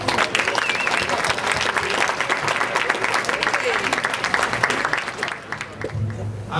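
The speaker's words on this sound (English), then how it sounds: "Round of applause" Steady applause from an audience at a Fiesta del Pueblo event in Newark, New Jersey, dense and continuous for several seconds before tapering slightly at the end.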